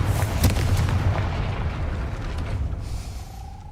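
A Confringo spell blast in Hogwarts Legacy lands as a loud, deep explosive boom early on, followed by a rumbling decay that fades to quiet.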